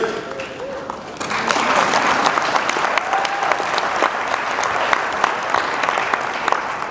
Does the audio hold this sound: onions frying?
no